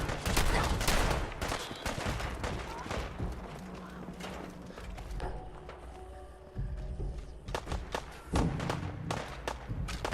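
Gunfire in Fallout 4 on PC, with bursts of shots and heavy thuds crowding the first seconds, then a quieter stretch with game voices before loud shooting returns near the end.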